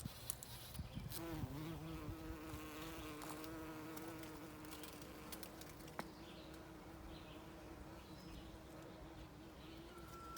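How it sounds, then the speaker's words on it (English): Bees buzz steadily around rhododendron blooms outdoors, a continuous drone with a few faint bird calls and a soft cooing in the background. "bees are all over the blooms."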